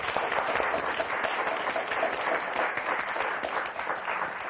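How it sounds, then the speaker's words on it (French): Studio audience applauding on a French TV word game show, a dense, steady wash of many hands clapping that holds at a loud, even level from start to finish. "Et les mêmes applaudissements pour Sylviane et Gisèle"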